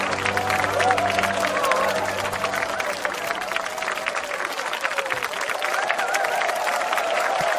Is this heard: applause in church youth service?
yes